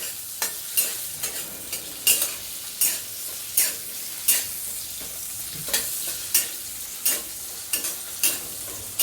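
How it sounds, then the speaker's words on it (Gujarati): Chopped onions sizzle in a pan while being stirred, with regular clanking scrapes of a spatula roughly every half second over a continuous bright frying hiss, close up and without speech. "કાંદા નાખ્યા પછી આપણે એને હલાવી દઈએ બરાબર"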